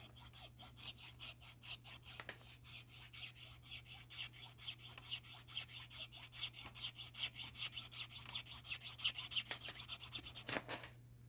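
A fine-toothed file rasps rhythmically across the metal clip of a Cold Steel Voyager knife, with quick, even back-and-forth strokes over a low steady hum, quiet and close.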